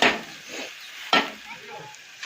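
Onion, garlic and spices fry in a pan, with two sharp stirring scrapes over a moderate, continuous sizzle.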